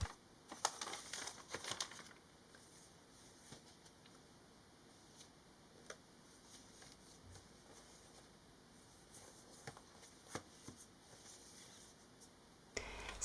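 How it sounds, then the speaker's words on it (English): Wrapping paper being cut to size for a small gift box: faint crinkling and rustling with scattered soft ticks and snips, a denser burst near the start and another at the very end. "cut the paper to the size that is required"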